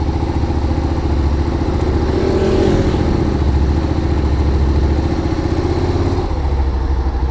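A motorcycle rolls at a low, steady speed, its engine a loud, even rumble that holds constant throughout with a faint rattle.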